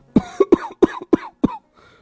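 An old man on a cot coughs six times in quick, close, fairly loud bursts, with short gaps between them and a fainter rasp trailing after the last.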